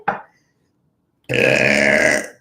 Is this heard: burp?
yes